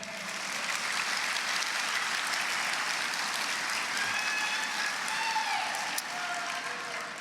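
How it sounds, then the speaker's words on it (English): A large audience at the Jalsa Salana USA 2024 gathering applauds legislators, with dense, continuous clapping that holds steady for several seconds, with faint voices or cheers mixed in. "Let's give a big round of applause to my fellow legislators who showed up for us today"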